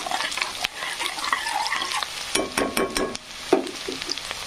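Onion fries in a pan with ginger, coriander and garlic paste, a moderate sizzle under intermittent scraping and stirring clatter, with a few sharp knocks of a spoon against the pan.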